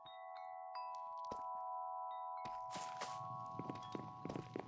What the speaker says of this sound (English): are those wind chimes I hear?